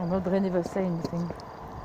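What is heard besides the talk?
No everyday noises stand out.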